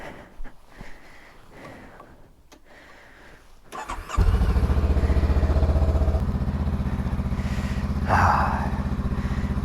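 A Honda Rebel CMX 500 motorcycle is started after soft handling noises, and its engine catches at once and settles into a steady, loud, close idle with a brief rise in revs near the end.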